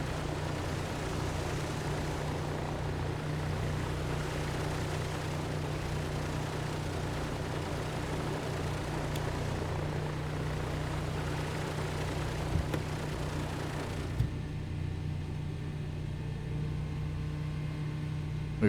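Aircraft right engine started and running steadily, a continuous loud propeller-engine drone with constant hum that drops away sharply near the end.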